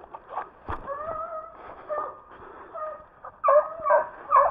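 Hunting dogs close in around a wild boar during a boar hunt, giving scattered barks, yips and whimpers at moderate distance, growing louder and busier toward the end.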